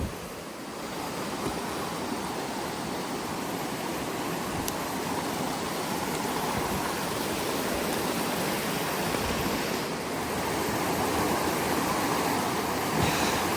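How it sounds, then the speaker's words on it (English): A stream rushes steadily at a water crossing on a mountain hiking trail, a loud, continuous broadband wash of flowing water close by, with no voices. "All right, now we've got a water crossing."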